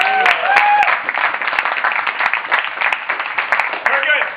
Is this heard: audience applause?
yes